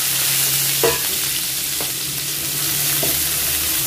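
Chopped onions sizzle in hot oil tempered with cumin seeds, a steady close frying hiss broken by a few scraping stirs of a spoon in the pan.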